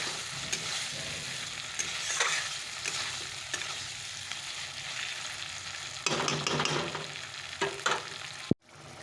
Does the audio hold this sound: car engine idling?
no